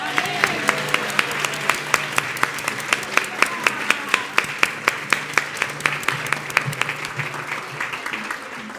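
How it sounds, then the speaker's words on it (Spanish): A church congregation claps at the close of a Eucharistic celebration for the Solemnity of the Assumption of the Virgin Mary, with a steady crowd of hands and a few sharp, distinct claps running throughout. "Un aplauso a la Virgen María."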